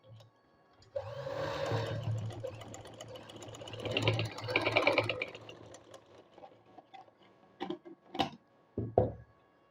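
A sewing machine stitches an invisible zipper into fabric, running in a steady mid-loud whir for several seconds that rises and falls, then a few short sharp clicks and handling knocks near the end.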